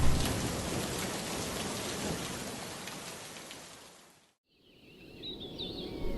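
Heavy, dense rain pours steadily for several seconds, then cuts out and returns softer with faint bird-like chirps over the patter.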